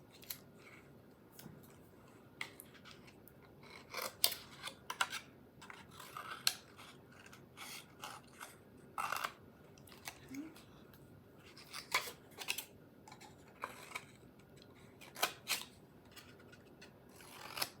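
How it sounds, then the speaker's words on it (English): Scissors snip paper in short irregular cuts around a wooden bunny cutout, some quick bursts close together, with quiet pauses and faint rustling between them. "I'm going to trim closely to the wood bunny, trim off all the paper pieces."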